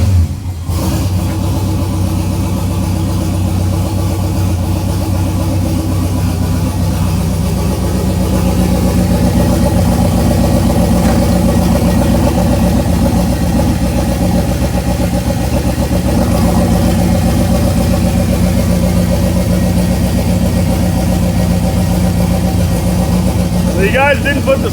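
Big-turbo fourth-generation car engine idling in a shop, a steady loud low rumble running throughout, with people talking over it at times.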